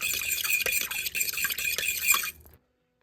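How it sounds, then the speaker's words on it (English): Whisking wet ingredients for loaf bread dough, oil among them, in a mixing bowl: a quick, busy run of close scraping and clicking strokes for about two and a half seconds, then it stops into silence. "Whisk it."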